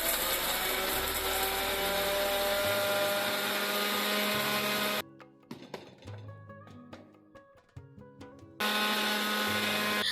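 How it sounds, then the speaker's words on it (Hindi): An electric grinder finely grinding black salt and red chili spice, a loud steady whirring drone that pauses for a few seconds of rattling and clinking, then starts up again. "मैंने यहाँ पर काला नमक लिया है 1 चम्मच और इसे हम एकदम महीन पीस लेंगे।"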